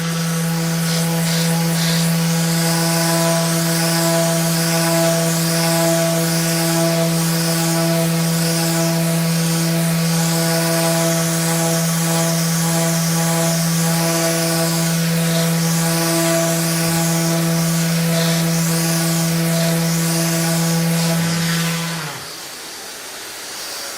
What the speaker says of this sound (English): And now with the sander, because I know exactly where the areas are that need to be reworked, we can go over those